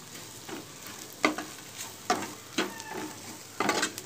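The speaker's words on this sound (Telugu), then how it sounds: "బాగా వేగనివ్వాలండి" Bitter gourd slices fry in oil in a pan over lowered heat, a soft steady sizzle punctuated by several scraping stirs at irregular intervals, close and fairly quiet with no voices.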